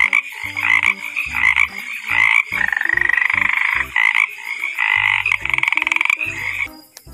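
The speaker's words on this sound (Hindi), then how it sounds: "फ्रॉग," A frog croaks loudly and up close in rapid, rattling bursts, repeating again and again with short pauses between calls and no other sound.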